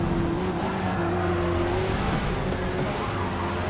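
Aston Martin race car in Forza Motorsport at Barcelona, its engine droning steadily at high revs down the straight, loud and continuous with a sustained whine and faint tire noise throughout.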